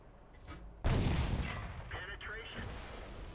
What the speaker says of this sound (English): That's nice having a gun that fires a little faster.